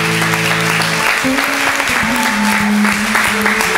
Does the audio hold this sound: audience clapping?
yes